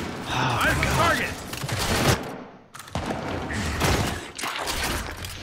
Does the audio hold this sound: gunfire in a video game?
yes